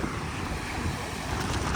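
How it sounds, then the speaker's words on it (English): Strong wind buffets the microphone at the beach, a steady loud roar with surf-like rushing and no speech. "Now the wind is really raging."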